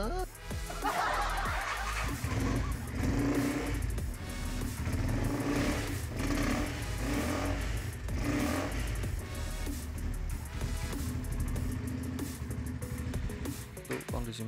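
A 150cc sport motorcycle with a non-original aftermarket exhaust idles steadily and loudly throughout, a continuous low rumble with some light background noise.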